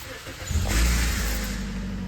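A 2009-2010 Toyota Corolla engine cranks and catches after a catalytic converter and exhaust replacement, rising to a loud, close idle that settles into a steady hum with no exhaust leak hiss.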